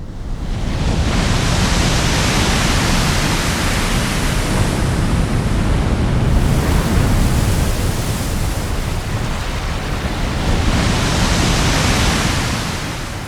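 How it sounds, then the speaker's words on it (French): A loud, constant roar of rough North Atlantic storm sea and strong wind, swelling and easing in slow surges with no pause. "Les tempêtes dans l'Atlantique Nord sont particulièrement violentes."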